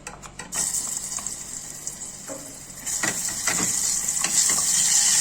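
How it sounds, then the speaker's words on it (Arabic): Crushed garlic dropped into hot oil, sizzling and frying loudly and continuously up close, with a few stirring scrapes over the steady hiss. "نحط الزيت اول، بعدين هنحط الثوم المهروس"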